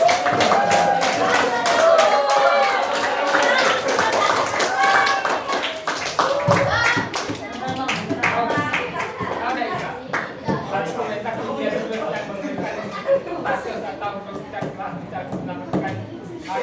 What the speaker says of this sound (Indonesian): kasih tepuk tangan dulu biar bangga